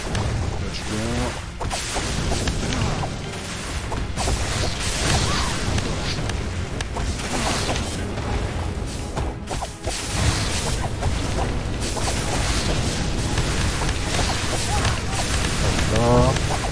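Explosions and whooshing attack effects burst and crash repeatedly in the video game Spelldisk, a busy continuous barrage of booms with someone talking over parts of it.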